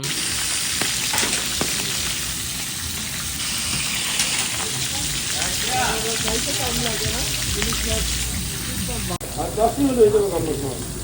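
Hilsa fish head and tail frying in oil at a riverside eatery at Mawa Ghat on the Padma: a steady, close sizzle throughout, with a burst of stirring and clatter near the end.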